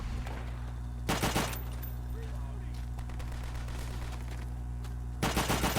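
Gunfire in a PS3 shooter video game: two short bursts of rapid automatic fire, one early and one at the end, over a steady low game hum with faint scattered effects between.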